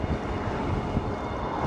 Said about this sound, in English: It's windy out here, so hopefully the mics aren't too bad.